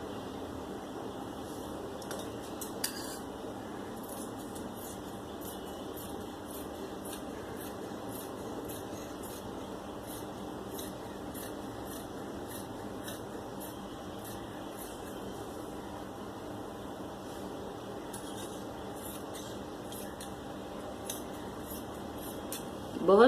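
Scissors cutting fabric to make trousers from a shalwar, a faint, quiet series of rhythmic snips, sometimes in quick runs, over a soft steady room hum.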